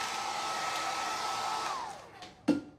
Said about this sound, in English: I'm gonna actually hit my transfer with the hairdryer, make sure it's dry